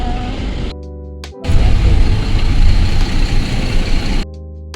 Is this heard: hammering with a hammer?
no